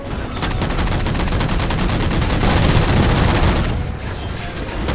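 Sustained automatic gunfire in Halo 4 as jammers are shot down, a dense, loud, continuous stream of rapid shots that briefly eases near the end, with no voices.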